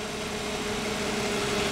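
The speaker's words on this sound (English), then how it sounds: "As you can hear, we have an excellent running 2007 Nissan Maxima." A 2007 Nissan Maxima with a 3.5 liter California emissions engine idles steadily, a smooth continuous hum with a faint tonal whine, close and even throughout.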